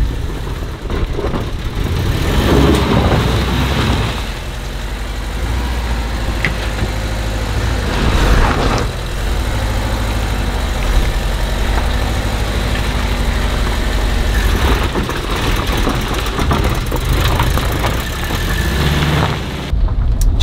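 A VW T3 Doka van engine drones steadily and loudly throughout while driving, with a low, continuous rumble that swells and eases with the road, and no talking.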